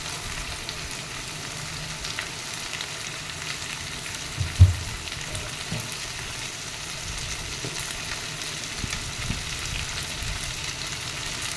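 Drumstick fry with an asafoetida tempering sizzles in a pan, giving a steady soft crackling hiss close by, with one brief knock partway through.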